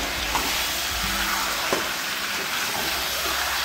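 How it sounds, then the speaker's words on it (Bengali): Chicken pieces for chicken sukka sizzle and fry in a pan while being stirred, a steady close crackle with occasional scraping strokes from the spoon. "ঠিক এইভাবে আমরা নাড়িয়ে চাড়িয়ে এটাকে রান্না করে নেব।"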